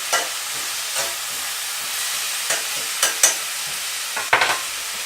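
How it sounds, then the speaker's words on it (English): Steady sizzle of onions frying in a pan with browning chicken, with a few sharp scraping clicks from stirring scattered throughout. "I'll get the onions in the pan as I'm stirring."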